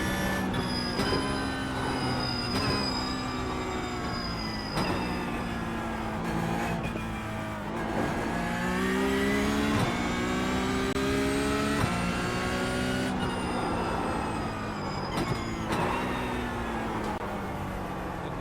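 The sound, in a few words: race car engine revving, Toyota GR86 in iRacing video game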